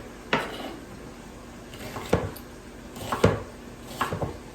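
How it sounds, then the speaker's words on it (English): A knife chops small onions on a board in a few sharp, spaced knocks, close by with quiet kitchen background. "So here I'm chopping up 2 onions because they're really small onions."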